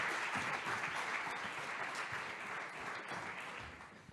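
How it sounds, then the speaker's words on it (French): Sustained applause from an audience at a sport psychology conference on the Olympic and Paralympic Games, a dense steady patter of many hands filling the room without letup. "Sous vos applaudissements, merci."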